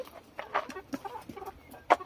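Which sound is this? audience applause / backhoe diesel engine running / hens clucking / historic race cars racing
hens clucking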